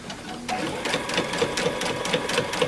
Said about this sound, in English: And then now we're just going to sew straight down.